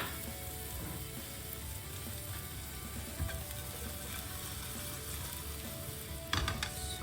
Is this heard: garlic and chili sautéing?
yes